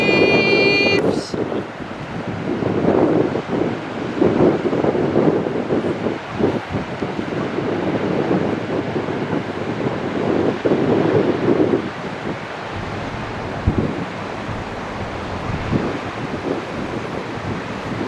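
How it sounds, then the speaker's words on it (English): Wind and Atlantic waves on a beach on Achill Island, Ireland. Gusty microphone wind roars close and loud, with surf washing in over it, and brief faint voices are heard. "waves."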